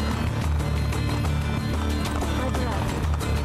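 Rapid galloping hoofbeats of a big armored horse in Assassin's Creed Brotherhood, busy and steady throughout, layered over music and ambient sound.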